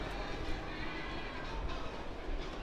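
O-scale model trains running on a large garden-style layout, a steady close rumble with faint rail clatter throughout and no talk.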